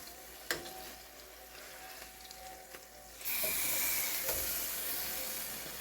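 Ribeye steak sizzling in butter in a pan, a faint hiss with a few utensil clicks, then the sizzle swells suddenly into a louder, steady frying hiss.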